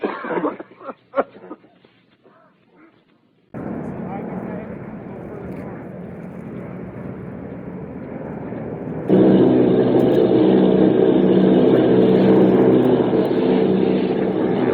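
A radio drama sound effect of army bombing plane engines gives a deep, steady droning roar that cuts in after a moment of faint voices, then swells louder and denser partway through, holding on continuously.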